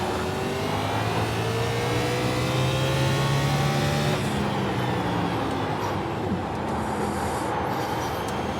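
A race car engine in iRacing, an O'Reilly B car at Martinsville, revving under throttle with rising engine tones that climb repeatedly through gears, loud and close, continuous.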